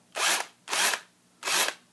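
An old cordless drill on a rebuilt battery whirs in three short, even bursts with brief pauses between them, close and clear.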